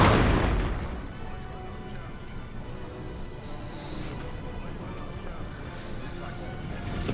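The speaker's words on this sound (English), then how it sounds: "Even the artillery is feeling the heat of the French cannon." Cannon and artillery fire in the Napoleon Total War video game: a heavy boom at the start decays into a rumbling battlefield din with scattered distant shots, while someone talks over it.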